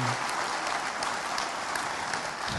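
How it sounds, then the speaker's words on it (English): A church congregation applauds at a farewell service, a dense, even wash of many hands clapping steadily at close range, with no voices over it. "let's give a round of applause."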